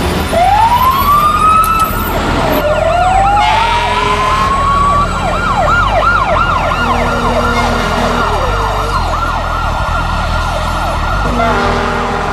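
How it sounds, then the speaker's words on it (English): Several fire engine sirens wail, rising and falling continuously, loud and overlapping, with steady traffic rumble underneath, as engines race downtown in Oklahoma City. "From across the city, 11 fire engines race downtown."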